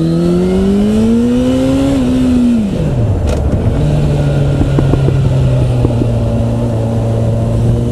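A Suzuki Bandit 650 S four-cylinder, 650 cc motorcycle engine hums loud and close, rising in pitch, then dropping sharply as the rider eases off, before settling into a steady cruising drone under wind noise.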